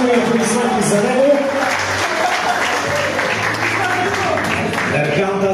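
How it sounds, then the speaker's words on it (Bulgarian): Audience applause at a graduation ball as an award certificate is presented, a steady, loud wash of clapping over crowd noise with voices mixed in throughout. "Да заповяда на мистер Мечо, силни аплодисменти за него."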